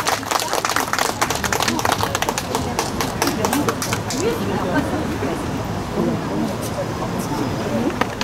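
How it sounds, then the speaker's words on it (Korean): Audience applause at a Korean Liberation Day (74th anniversary) celebration stage event in Daejeon: dense, steady clapping from a large crowd, loud and continuous throughout, with some cheering mixed in. "홍진수 학생한테 뜨거운 박수 부탁드립니다"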